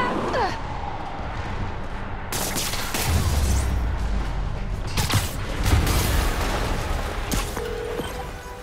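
Loud, sustained rumbling blasts and crashing debris fill the whole stretch, with heavy low booms swelling in the middle over constant noisy din, during a boss fight against Kingpin in the video game Marvel's Spider-Man on PC.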